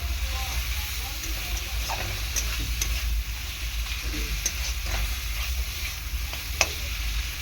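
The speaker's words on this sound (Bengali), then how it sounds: "মশলাটা এরকমভাবে আমি কষিয়ে নেব জাস্ট দু থেকে তিন মিনিট এরকমভাবে কষিয়ে নেব" Turmeric and chili powder masala sautés in oil for a mustard-oil Bombay duck fish dish, sizzling and hissing steadily up close while a spoon scrapes and stirs with occasional sharp clicks; a voice speaks faintly underneath.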